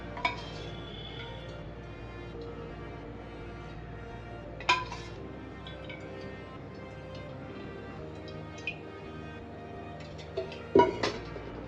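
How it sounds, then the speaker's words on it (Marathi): Kadhai set on a gas stove with two spoonfuls of oil added, heard as a few sparse metallic clinks and taps of spoon and pan against a quiet room background. "त्यासाठी कढई घ्यायची आहे गॅस चालू करून आपण यामध्ये दोन चमचे तेल घालूयात"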